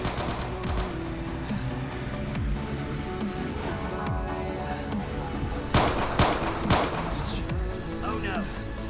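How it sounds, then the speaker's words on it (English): Rapid bursts of gunfire crackle steadily in the Roblox game Zombie Task Force, with heavier booms and explosions around the middle, loud and close against a busy game soundscape. "Gunshots triggered a war operation."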